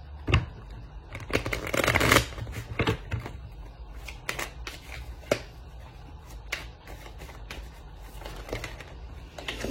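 Tarot cards cut and shuffled by hand, a run of crisp riffling flutters and sharp slaps close by, busiest in the first few seconds and then thinning to scattered card snaps, with no talk over them.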